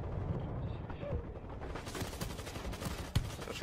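Rapid gunfire rattles through a fight against zombies in the video game World War Z, a dense, fairly faint crackle of shots with one heavier report standing out near the end.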